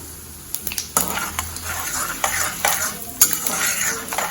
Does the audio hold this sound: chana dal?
yes